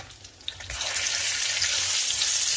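Eggplant fritters (beguni) fry in hot oil, giving a bright hissing sizzle that swells after the first moment and then holds steady and close.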